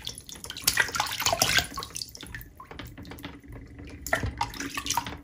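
Water runs steadily from a tap into a sink while crystals are washed with soap, a close continuous splashing rush that thins briefly midway, with no talking.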